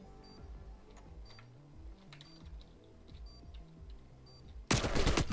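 Gunfire in a Call of Duty Cold War match bursts in loud and close near the end, a dense volley after a stretch of quieter game sounds, clicks and background music.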